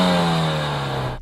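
A Mercedes-AMG A45 S on its standard exhaust revs while stationary, a loud close engine note holding steady then easing off, alone without talk.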